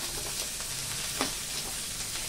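Onion frying in oil for Nashik-style misal pav, a steady close sizzle with a faint stir scrape partway through and no talking.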